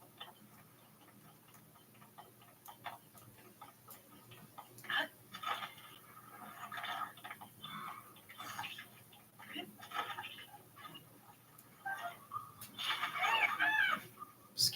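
Chickens clucking and squawking in Zelda: Tears of the Kingdom, with scattered bursts of fowl calls that grow busier and louder toward the end over quiet game ambience.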